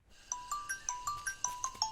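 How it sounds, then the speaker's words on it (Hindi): A mobile phone rings with a repeating electronic ringtone, bright chiming tones pulsing in a steady rhythm about every fifth of a second, fairly close and clear with no talk over it. "अरे रिंग जा रही है।"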